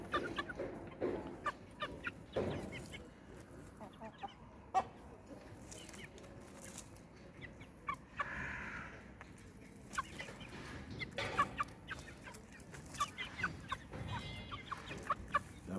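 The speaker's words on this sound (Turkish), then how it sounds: "tavuklarım da güzel" Young Indian game chickens (Asil breed) cluck softly and intermittently nearby on a farm, with scattered peeps and a faint background voice.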